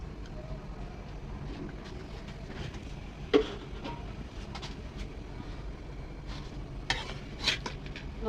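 Rohu fish simmering in a pan with winter vegetables, a soft steady sizzle and bubbling with occasional utensil clinks and scrapes against the pan, no talking.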